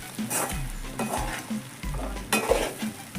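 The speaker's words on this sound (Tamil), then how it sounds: "அப்படியே எடுத்து இந்த வானலில் இருக்கிற கலவையோடு சேர்ந்து கிளறி விட்டுற போகிறோம்" A spatula scrapes and turns chapati noodles through a spice mixture in a hot pan, making a close, rhythmic stirring over a steady background sizzle.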